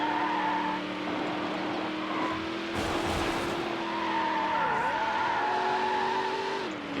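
Car tires skid and squeal through a corner in Need for Speed Hot Pursuit 2, a sustained screech over a steady high engine drone whose pitch dips and bends as the car slides.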